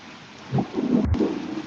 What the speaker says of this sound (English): It's about to storm here.